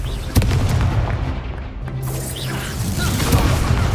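A Confringo explosive spell blast in a wizard video game, a loud booming burst at the start followed by a rumbling, crashing tail and debris-like noise that fades and swells over a few seconds.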